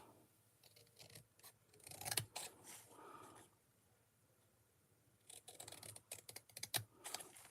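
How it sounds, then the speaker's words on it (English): Scissors snip through paper while trimming a scrapbook piece into a pennant shape, giving short crisp cuts in two bursts separated by a quiet pause, close and fairly faint. "Then I'm going to cut the bottom"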